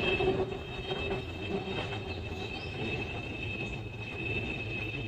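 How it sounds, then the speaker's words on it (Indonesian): An MRT train in Malaysia rumbles past steadily with a faint high squeal of wheels on rail, heard at a moderate distance with no talking. "Wah, di situ ada MRT"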